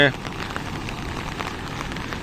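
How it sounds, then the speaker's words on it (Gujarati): Steady monsoon rain pours down in a dense, even hiss, close and moderately loud, with no pauses or voices. "વરસાદ પડતો એવું દેખાય છે"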